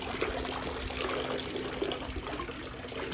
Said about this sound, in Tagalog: Hugasan tayo dito.